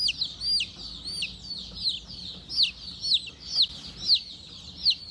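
Olive Egger and Sapphire Gem chicks peep at a feed store, a rapid stream of high, loud chirps repeating in quick bursts over faint background noise.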